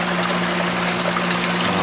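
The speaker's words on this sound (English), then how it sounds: "starting to fill up and starting to spill over the V-notch weir" Water spilling steadily over a triangular V-notch weir in a laboratory flow channel, a continuous close, even rushing trickle with no pauses, heard alone.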